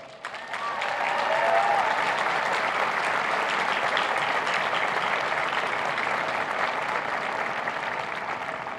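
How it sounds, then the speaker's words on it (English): A large graduation audience applauds faculty and staff, the clapping swelling quickly and then holding as a broad, even roar of many hands for over eight seconds, with no talk over it. "Please join me in giving our faculty and staff a round of applause"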